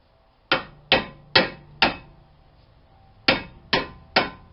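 Seven sharp metal hammer taps seating 21 mm CV axle bolts into the steering knuckle of a 2012 Jeep Patriot, struck in two quick bursts of four and three with a brief pause between, close and ringing.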